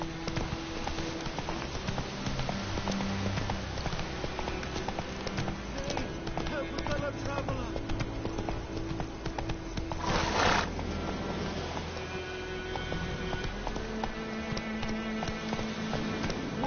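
Horse hooves clip-clopping steadily in a PS4 game, with rhythmic galloping under game music and someone talking over it, including a brief burst of louder noise midway.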